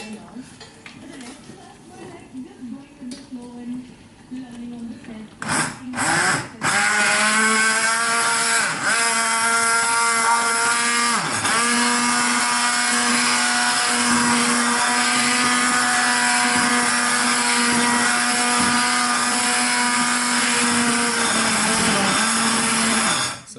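Hand blender running in daal for a Bombay potatoes and rice meal: after brief handling noises it starts up and whirs steadily and loudly, with slight pitch dips as it works, then stops at the end.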